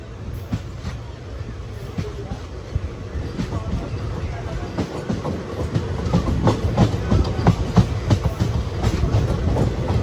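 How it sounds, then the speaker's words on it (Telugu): The Guruvayur Express runs out of Virudhachalam Junction, and its steady clickety-clack of wheels on rail joints grows slightly louder under a continuous rumble of carriages, heard from inside the train. "విరుదాచలం జంక్షన్ నుంచి బయటకు వచ్చింది బండి."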